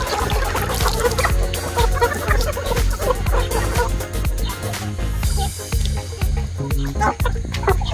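A young gamefowl rooster clucks repeatedly in short, close bursts amid a busy yard, with other birds and background noise underneath.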